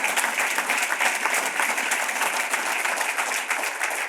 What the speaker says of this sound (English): And yeah, you can clap for that.